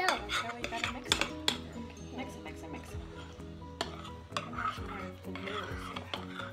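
A spoon stirring homemade fluffy slime in a bowl, with busy scraping, clinks and squishy rubbing repeating over several seconds and music playing underneath.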